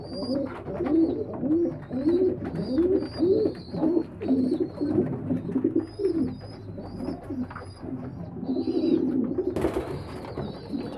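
Young pigeon squabs in a loft, a close series of soft rhythmic coos repeating steadily, with faint higher chirps above and a brief rustle near the end.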